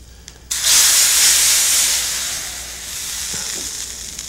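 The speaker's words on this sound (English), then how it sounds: "Now let's bring this over to the soup for a final explosive seasoning." Hot spice seasoning poured into soup bursts into a loud sudden sizzle that hisses strongly, then slowly fades to a softer steady crackle.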